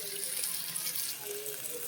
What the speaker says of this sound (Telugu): గ్రేవీకి సరిపడిన వాటర్ యాడ్ చేసుకోవాలి. సో మేము ఇక్కడ 1 గ్లాస్ వాటర్ యాడ్ చేసాము